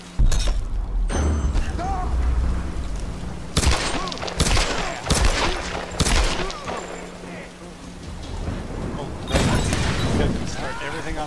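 Gunfire bursts in the Tomb Raider video game, several sharp loud shots and rapid volleys scattered through the scene, with excited voices talking over the action.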